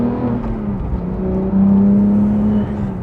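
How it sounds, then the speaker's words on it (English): A 2018 Porsche 911 GT3 with a SOUL exhaust revs loudly and close, its engine note holding steady and then climbing into a stronger, sustained tone. "And this Soul exhaust sounds incredible."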